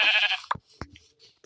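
A sheep in a video game bleats loudly and close for about half a second, followed by a few short clicks and faint game-like sounds.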